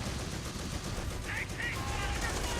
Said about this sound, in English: High explosive rounds killing those grenadiers instantly.